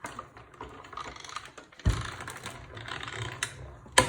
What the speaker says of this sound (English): I'm going to die cut a scallop circle from this layer